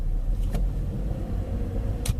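Manual transmission car pulls away in first gear, a close low engine rumble at gentle revs with faint road noise and a couple of short clicks, no talking.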